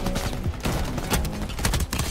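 Shotgun blasts from the video game Shatterline, with several rough booming shots in quick succession over about two seconds, close and loud amid other game noise.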